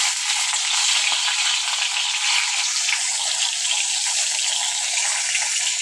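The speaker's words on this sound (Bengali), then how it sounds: "এবারে আমি এক এক করে মাছগুলোকে ভেজে নিচ্ছি।" Fish pieces frying in hot oil in a wok, a steady loud sizzle with crackling spatter throughout and no voices.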